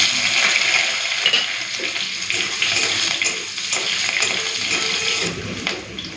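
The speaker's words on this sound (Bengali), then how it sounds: "পেঁয়াজ কুচি আর চেরা কাঁচা লঙ্কা দিয়ে দেবো।" Chopped onion and slit green chillies fry in hot oil over a five-spice and dried red chilli tempering, producing a loud, steady, close sizzle throughout with faint crackles; no talking.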